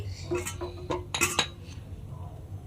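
A bowl being picked up and set down while preparing sabur pithe dough, giving a few bright clinks and ceramic knocks close by, clustered together before fading to quiet room tone.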